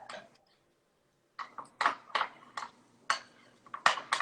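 Ingredients for truffle ricotta get mixed in a bowl, giving a series of clinking, scraping taps from a utensil against the bowl, about a dozen close strikes after a brief pause.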